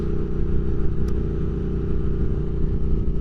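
Rebuilt 2022 Triumph Speed Twin motorcycle underway, a steady close engine drone with a throbbing low rumble and no voices.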